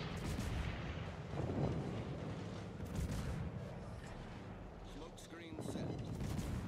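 Warship guns firing in World of Warships, deep booming salvos over a dense rumbling battle backdrop, several heavy blasts spread across the span at close range, with a voice speaking over the action.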